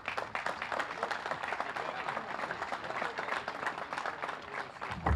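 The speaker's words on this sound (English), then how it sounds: "Please give a nice round of applause to our friend Michael Donovan." An outdoor crowd at a bandstand dedication gives a round of applause: even, continuous clapping that holds throughout at a modest distance.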